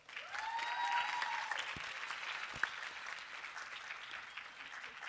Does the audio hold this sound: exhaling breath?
no